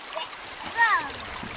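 Splash of a child jumping into cold stream water in the Hoh Rainforest, one brief splash as a voice calls out over a constant running-water rush.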